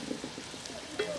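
Onions fry in a pan as red chili is added, a soft, steady sizzle with light stirring scrapes and small pops, quiet and close.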